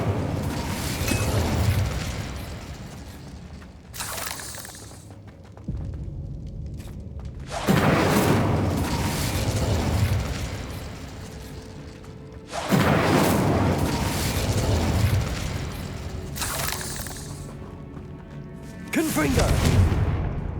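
Incendio fire spells cast in Hogwarts Legacy, heard as a string of loud booming bursts every few seconds, with combat noise in between and other spell effects layered in.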